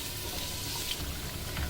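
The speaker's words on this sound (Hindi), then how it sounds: "अब इस स्टेज पे आके मैं इसमें सारे गरम मसाले शामिल कर दूंगी और साथ ही ये अदरक लहसुन डाल के इसको भून लूँगी।" Ginger, garlic and garam masala fry in oil with onions in a pot for a meat rice dish, giving a soft, continuous low sizzle throughout, fairly quiet, with no talking.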